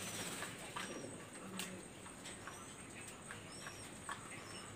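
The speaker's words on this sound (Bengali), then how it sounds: "এই দেখেন এখানে আছে অনেকগুলো কবুতর।" Pigeons kept in a loft in Daulatpur, Khulna, including flying breeds, coo softly and steadily against a low, hissy background, with brief chirps scattered through and no clear talking.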